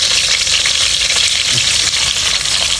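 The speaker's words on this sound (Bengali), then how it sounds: "তেল গরম হয়ে গেছে এখন পেঁয়াজ দিই" Onions fried in hot oil, giving a loud, close, continuous sizzle that holds steady throughout with faint crackles on top.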